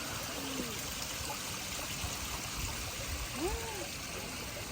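Water rushes continuously like a nearby stream, a broad steady hiss, while faint voices murmur briefly beneath it.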